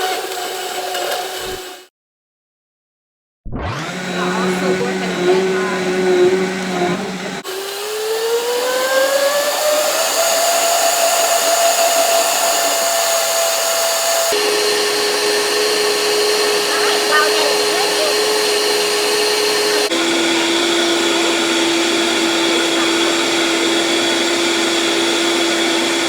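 A blender whirs through watermelon and ginger, starting after a brief silence and climbing in pitch as the motor speeds up. It then settles into a steady loud drone with a couple of step changes in tone.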